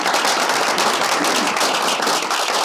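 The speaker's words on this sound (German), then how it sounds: "Kleiner Applaus." A room full of audience clapping at a talk event in a hotel, dense and loud, a close, crackling wash of hand claps lasting throughout.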